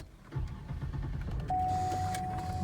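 A 2005 Cadillac STS comes to life with a push button: a rising whir of the starter and engine firing, then a steady idle with a sustained whine, close by and alone.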